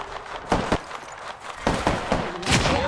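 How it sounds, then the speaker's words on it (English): Enemy gunfire in the Apex Legends video game, heard as several sharp, close shots and short bursts spread unevenly over a few seconds, with a busy background of game noise between them. "Enemies are shooting at me."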